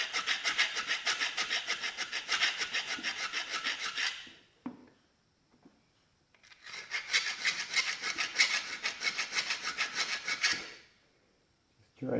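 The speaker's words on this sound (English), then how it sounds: "I'm gonna try to just file this out." A hand file rasps out a hole in metal during engine maintenance. It makes two long, close bursts of rapid, even back-and-forth strokes with a short pause between them.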